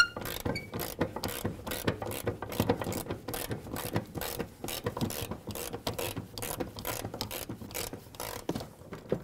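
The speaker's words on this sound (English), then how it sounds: "With a 19mm socket and wrench, remove the 2 mounting nuts and bolts that hold this control arm onto the frame." A 19mm socket and wrench work the mounting nuts and bolts of an upper control arm on a 2005-2021 Nissan Frontier 4.0L V6, giving steady, fast ratcheting clicks in close, even bursts throughout.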